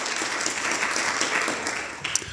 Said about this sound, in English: if we can give Lexi another round of applause